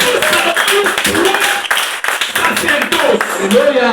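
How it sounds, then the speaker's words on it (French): A church congregation claps for the pastor, dense close clapping filling the room continuously with voices mixed in throughout. "On a applaudi pour le pasteur"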